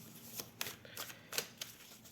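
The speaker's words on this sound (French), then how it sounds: "Je prends ensuite une autre carte" A tarot card being drawn from the deck and handled, with a few soft, quick flicks and paper snaps spaced irregularly at close range and no voices.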